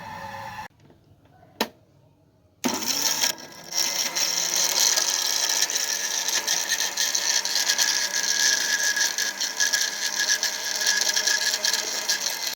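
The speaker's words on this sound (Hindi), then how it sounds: "अब हम इसको करेंगे ग्राइंड।" Roasted whole spices for nihari ground in an electric grinder: a few brief clunks, then the motor starts and runs with a loud, steady whirring grind through to the end.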